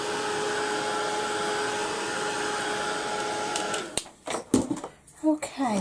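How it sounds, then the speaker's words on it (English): Steady roaring blast of a heat gun drying a mixed media steampunk canvas, close and continuous for about four seconds, then cutting off into clattering handling sounds. "give it a quick blast with the heat gun"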